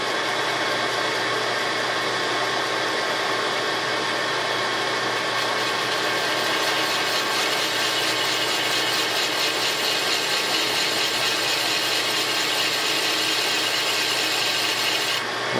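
Cutting tool shaving a chamfer onto a Renault H-beam connecting rod at the crankshaft-radius end, a steady, even scraping rasp that runs unbroken at close range with no speech.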